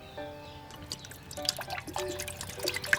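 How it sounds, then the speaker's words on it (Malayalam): Water poured into a pressure cooker holding a stuffed duck for a Kerala-style steam roast, with soft dripping and trickling splashes in short bursts, fairly quiet and close, with no talking. "അപ്പോൾ അതിനേക്ക് ആവശ്യമായിട്ടുള്ള വെള്ളം ഒഴിച്ച് വെക്കുക."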